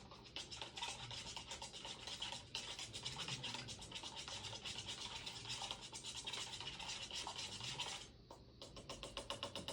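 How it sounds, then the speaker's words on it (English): A spoon stirring a yeast and water mixture in a cup, giving a continuous fast scraping rub close to the ear. The sound cuts out briefly near the end and then resumes. No talking. "Take your spoon that I've given and just mix it up at your table."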